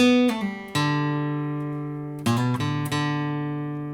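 A short electric guitar phrase from a guitar solo: a few plucked notes ringing and sustaining, a brief pause, then another cluster of picked notes left to ring out.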